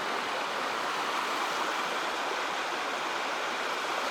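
Steady broadband rush of the Chetco River flowing near an airplane wreck site, continuous and fairly close with no pauses or voices.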